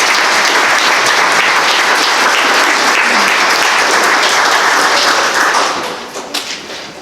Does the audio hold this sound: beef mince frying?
no